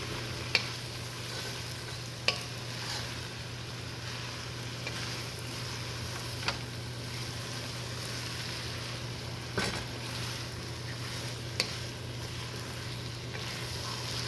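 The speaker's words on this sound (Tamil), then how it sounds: "இப்போ நம்ம பாஸ்மதி ரைஸை நல்லா ஒரு 2 நிமிஷம் சாட்டை பண்ணியாச்சு." Basmati rice with beetroot being sautéed in a pan for pulao, a soft steady sizzle with a low hum beneath and a few scattered sharp clicks of stirring.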